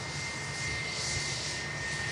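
An Ethiopian Airlines Boeing 787-9 arriving from Geneva comes in to land at Manchester Airport, its jet engines a steady, distant roar that stays level and fairly faint throughout, with no voices.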